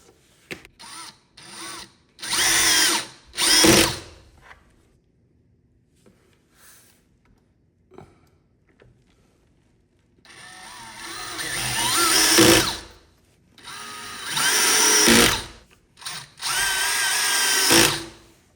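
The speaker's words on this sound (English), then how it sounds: "I'm going to go ahead and use my power drill." A power drill whirs in short bursts, then in longer runs that rise in pitch and strain as it drives screws into a wooden workbench, with brief quiet gaps between.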